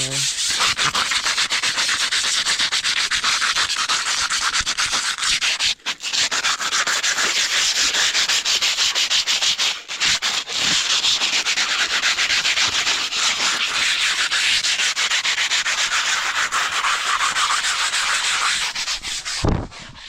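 Close, loud, continuous abrasive scrubbing of a surface being prepared for painting, a harsh rasping rub lasting about twenty seconds with only a couple of brief breaks.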